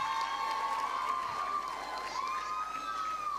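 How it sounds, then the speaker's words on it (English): A crowd at a school valedictory service cheers and claps, with children's shouts and whoops over a steady wash of applause, loud and sustained throughout. "Give him another round of applause."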